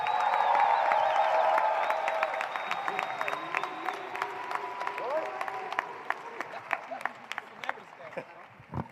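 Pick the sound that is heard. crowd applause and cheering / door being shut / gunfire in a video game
crowd applause and cheering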